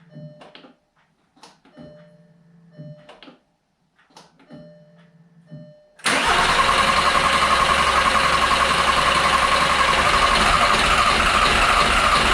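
A five-cylinder diesel engine in a VW T5 van starts after a service, following several seconds of intermittent ticking and cranking, then settles into a loud, steady, close idle.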